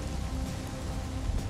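Steady rain pours in Avatar: Frontiers of Pandora, a dense, even hiss of drops hitting surfaces that fills the whole moment at close range with no pauses.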